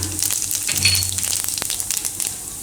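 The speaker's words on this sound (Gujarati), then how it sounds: "તેલ ગરમ થઈ ગયું ગેસ ધીમો કરી દે હું એમાં જીરું નાખશું પહેલાં" Cumin seeds sizzle and crackle in hot oil over a lowered gas flame, a steady close frying hiss with scattered pops running throughout, for a sev tameta gravy curry.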